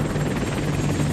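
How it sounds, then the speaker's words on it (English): A helicopter flying with a steady, loud rotor thump and engine whine, continuous throughout with no other sounds. "4 helicopters departed from Fort Bliss."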